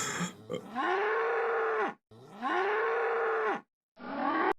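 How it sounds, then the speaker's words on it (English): Cow mooing from a played-back video, two long drawn-out moos followed by the start of a third, loud and close with abrupt cut-offs between calls. "We got a cow."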